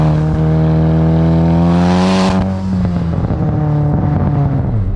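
A home-built 2.0L stroker engine in an Audi S4 revs hard under heavy acceleration, its loud, rising drone climbing in pitch, then dropping with a gear change and pulling again, close and dominant.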